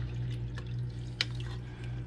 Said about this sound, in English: you can see that's pretty good water flow back there in that aquarium, in that compartment